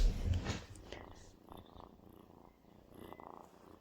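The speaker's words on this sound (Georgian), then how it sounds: "კრუტუნი." A cat purrs softly and close, a faint low rumbling texture after a brief louder rustle at the start, quiet throughout.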